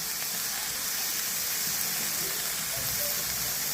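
A spiced vegetable mixture with turmeric, cumin, chili powder and Kashmiri chili powder fries in a pan with a steady, dense hiss that holds evenly throughout and has no breaks or voices.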